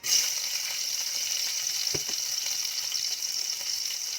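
Food frying in hot oil, a constant bright sizzle that fills the whole stretch, with one soft knock midway and no talking.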